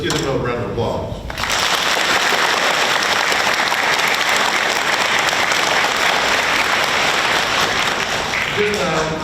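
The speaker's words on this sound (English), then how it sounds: "Let's give them another round of applause." Loud, sustained applause from an audience at an elementary school award assembly, honoring students after their performance. Dense clapping fills nearly the whole stretch, with a brief voice just before it starts.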